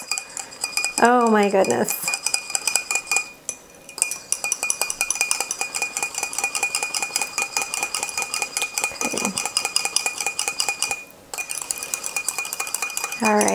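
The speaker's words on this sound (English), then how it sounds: "I take my little handy whisk here, and I'm just gonna whisk it up" A small whisk beats hollandaise sauce in a bowl, giving steady rapid metallic clinking and scraping that carries on throughout, close and fairly loud. A voice speaks a brief exclamation.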